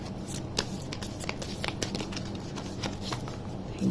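Tarot cards shuffled by hand in a quiet room, a run of soft riffling flutters and taps of cards, close and gentle, with no voices.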